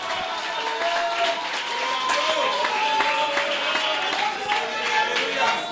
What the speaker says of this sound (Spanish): Dele un aplauso al Dios del cielo.